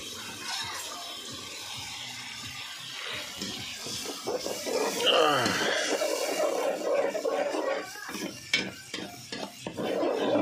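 Food stirred and frying in a home cooking pan, with scraping, clinking utensil-on-pan sounds over a steady sizzle, and people talking nearby through much of it.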